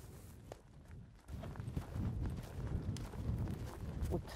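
A horse cantering during a dressage schooling session, its hooves striking the ground in a steady rolling three-beat rhythm, fairly close, over low arena rumble and wind.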